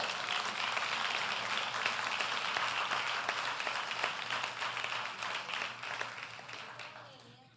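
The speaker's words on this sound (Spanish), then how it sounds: "Denle un aplauso fuerte al Señor." A church congregation applauds in a dense, loud wash of clapping that holds steady for several seconds, then gradually fades away toward the end.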